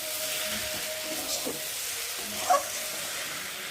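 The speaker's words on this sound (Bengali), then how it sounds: "আর এখন আমি মশলার মধ্যে আলুর মধ্যে মাছটা এখন ঢেলে দেবো" Fish tipped into a pan of fried spices and potatoes gives a soft, steady sizzle, fairly quiet and continuous, with a faint clink of a utensil partway through.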